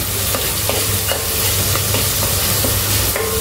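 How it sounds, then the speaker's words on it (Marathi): Ginger garlic chili paste stir-fried in a pan for vegetable pulao, a loud, close, continuous sizzle with repeated scraping strokes of a spoon at a steady rhythm. "आपल्याला आलं लसूण चिली पेस्ट आहे ती आपली भाजलेली आहे।"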